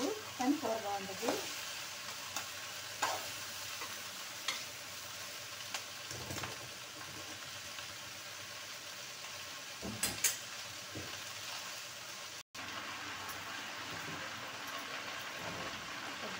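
Vegetable curry fries in oil in a pan, a steady close sizzle with occasional clinks and scrapes of stirring, one brief gap near the end.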